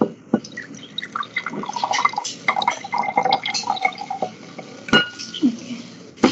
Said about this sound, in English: Now I will put the water in this glass.